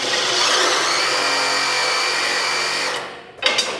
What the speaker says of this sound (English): I just like to grab a three-quarter socket on my impact